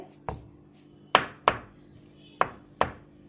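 A bowl of chocolate cake batter thumps down onto a hard surface several times, firm dull knocks coming at irregular intervals, close and clear with no talking.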